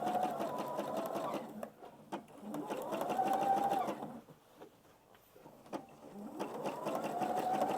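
A sewing machine slowly stitches a scrappy Easter egg table runner in bursts, its motor whine rising and falling in three close runs with a quieter pause between, and a voice talking faintly underneath.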